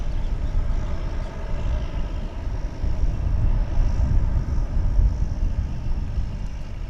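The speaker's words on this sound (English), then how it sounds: "that may be the shortest takeoff I've ever seen here" A jet airliner on takeoff at DFW International Airport roars with a steady low rumble, loud and continuous throughout with no talk over it.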